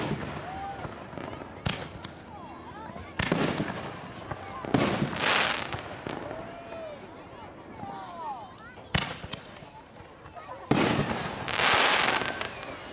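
A fish tank shell firework cake going off, a series of loud booming bursts spaced a second or two apart with crackling, fizzing tails between them; people's voices are heard faintly over the show.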